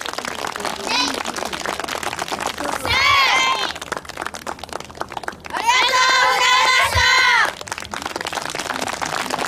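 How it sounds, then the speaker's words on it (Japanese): Crowd applause at an outdoor shrine festival in Japan, following a taiko drum performance; steady dense clapping runs throughout, with bursts of voices and children calling over it. "もう一度盛大な拍手をお願いいたします"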